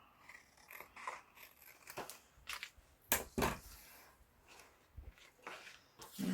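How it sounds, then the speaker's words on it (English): Scissors trim white edges off a scrapbook page in close, quiet snips: a series of sharp, irregular cuts with paper rustling between them. "I'm going to trim off these white bits."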